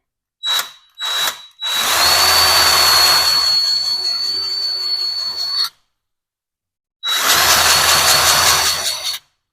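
A Harbor Freight 20V cordless grease gun whines and grinds close by: two short bursts, then a long four-second pumping run, a pause, and another two-second run.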